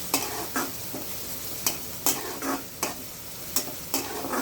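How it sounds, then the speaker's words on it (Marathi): Food sizzling in a pan with a series of sharp scraping stirs at a steady rhythm, fairly quiet and close. "आपला कांदा पण इथे छान परतलेला जाईल"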